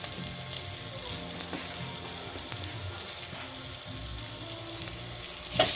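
Chicken frying in a pan of hot oil, a continuous dense sizzle and crackle held at an even level up close, with a faint clink near the end and no talking.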